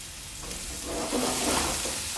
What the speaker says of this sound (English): I'm going to sear off my shrimp.